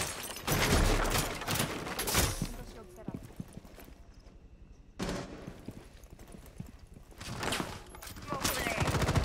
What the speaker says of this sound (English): So why are they shooting at it?